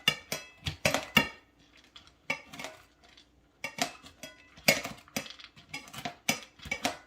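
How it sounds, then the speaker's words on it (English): Knife chopping pecans on a cutting board, a run of sharp, close clacks in irregular bursts with short pauses between them. "I'm gonna just kind of chop these up a little bit more."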